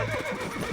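A horse in the video game Red Dead Redemption lets out a short, close neigh lasting under a second, alone in the mix.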